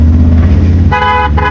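A car horn blares loudly and close in a street, cutting in sharply over a rumbling engine with a bright, sustained tone, briefly breaking, then sounding again.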